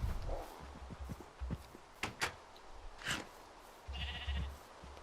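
Sheep bleats from Minecraft, several short nasal calls scattered across a few seconds, with game sounds like a door click mixed in, fairly quiet and without talking.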